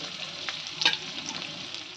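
Chopped ginger, green chilies and garlic frying in oil for restaurant-style chili chicken, a steady close sizzle with a brief louder crackle burst near the middle, no talking.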